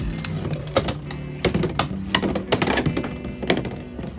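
A Beyblade Dran Sword top launched into its stadium, clattering and rattling in quick irregular clicks and knocks as it spins and strikes the plastic ridges, fairly close and with no talking.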